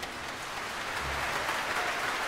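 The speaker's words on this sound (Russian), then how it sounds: "Ваши аплодисменты" An audience in Moscow's Zaryadye Concert Hall applauds after a choir and orchestra performance. Steady, dense clapping fills the hall evenly throughout, like a close, continuous wash.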